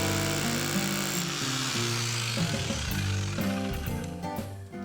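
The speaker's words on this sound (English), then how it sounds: "Then Phil sets up his hammer drill and begins boring holes at each mark." A loud, continuous hammer drill roar grinds at close range, its hammering buzz shifting slightly in pitch as it bores anchor holes for a pool cover.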